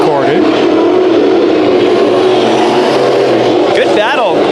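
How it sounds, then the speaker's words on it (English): Sport Mod race cars race at Bakersfield Speedway in a dense, loud engine roar, with revs rising and falling as the cars pass. A voice talks over the noise. "Sylvester in the 38, winner of the last Sport Mod race we recorded"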